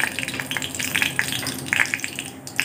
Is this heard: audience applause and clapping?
no